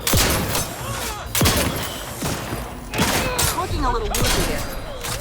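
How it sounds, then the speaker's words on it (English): Shotgun blasts from The Outer Worlds 2, four loud booming shots spaced about a second or more apart, each trailing off in a rumble, with excited talk between them. "it's like a Doom shotgun"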